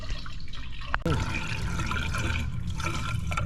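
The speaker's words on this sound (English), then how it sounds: "But it's just you pouring water on it." Water poured from a container into the radiator of a Yukon/Tahoe truck, a steady splashing gush with a short gurgle partway through, close by while a person talks over it.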